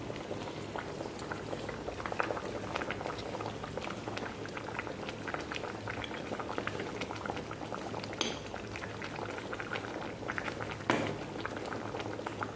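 Kuzhambu curry boils in a pot, a steady close bubbling and simmering hiss with occasional louder pops throughout.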